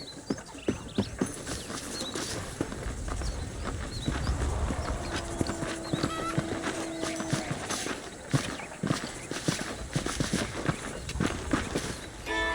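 Rhythmic clip-clop of horse hooves running steadily in the video game Red Dead Redemption, fairly close, with an occasional whinny and faint background ambience.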